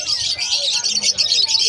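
A Yellow Face Opaline Bronze Fallow bird chirps in a quick, continuous stream of high twittering notes, close and fairly loud, with no talking.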